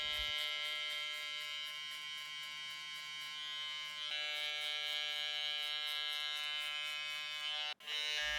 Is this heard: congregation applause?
no